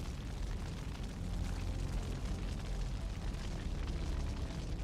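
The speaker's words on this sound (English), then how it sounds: "Another kamikaze drone finally destroys the target." A kamikaze FPV drone strike on an armored vehicle produces a loud, sustained, rumbling explosive roar that stays dense and steady for several seconds, with no voices.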